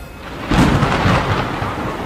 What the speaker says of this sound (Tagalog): ang malamig na ulan sa mukha ko